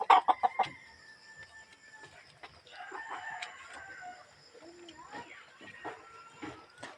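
Backyard chickens cluck busily while being fed, with a rooster crowing in quick bursts at the start and scattered clucks and calls throughout, under occasional speech.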